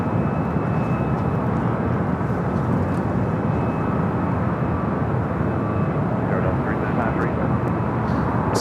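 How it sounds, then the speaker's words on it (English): A Delta Boeing 757 jet taxis toward runway 24 left at Los Angeles airport, its engine roar a steady broadband rumble that holds loud through the whole stretch, with a faint whine and talk running underneath. "Delta 757 heading over here to 24 left"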